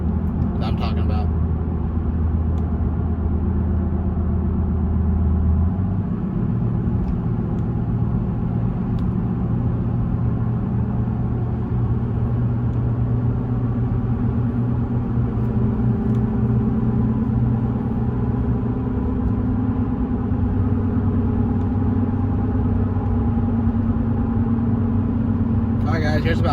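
Steady low road and tyre roar from Nitto Exo Grappler AWT tires on a Toyota Tundra cruising at about 55 mph over fairly new blacktop, a continuous drone with no talking.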